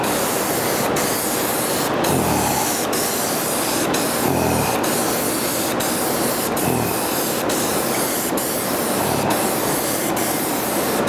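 An HVLP spray gun lays conversion lacquer over wood in a continuous close hiss of spray, cut by short regular pauses as the gun makes overlapping passes along the grain.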